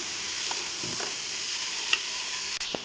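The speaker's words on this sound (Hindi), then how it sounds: "इसको अच्छी तरह भून लेना।" Beef frying in a pan with tomatoes and garlic ginger paste gives a steady, quiet sizzle, broken by a few soft clinks of a stirring spoon.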